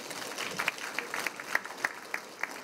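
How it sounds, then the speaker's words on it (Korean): A small audience at a residents' urban-regeneration forum gives the council members a brief, sparse round of applause, with individual claps standing out clearly in a quiet room. "그럼 의원님들께 박수 한번 주셔야 되지 않겠습니까?"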